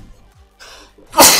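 A single loud, sharp sneeze bursts out near the end, following a short quiet stretch with faint background sounds.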